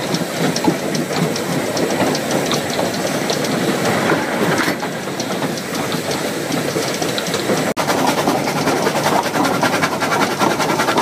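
A train in Cyprus rumbles along the rails with a continuous loud roar and rhythmic clatter, close and steady, with a sharp clank partway through.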